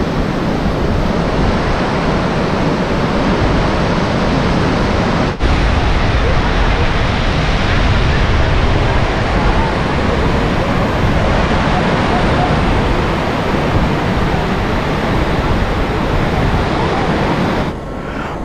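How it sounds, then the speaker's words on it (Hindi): The Shivnath river in full flood near Bhilai, Durg, roars as a loud, steady broadband rush of turbulent water, constant and close with wind buffeting the microphone. "पूरा शिवनाथ नदी फुल उफान में है"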